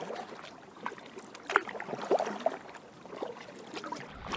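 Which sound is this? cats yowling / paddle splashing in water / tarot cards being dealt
paddle splashing in water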